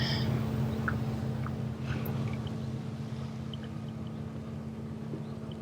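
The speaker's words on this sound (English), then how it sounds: "Lots of motorbikes, as you can hear, loving the bends." A steady motorbike engine drone hums from a distance on the bends of the Vršič Pass in Slovenia, fading slightly partway through, with open-air ambience around it.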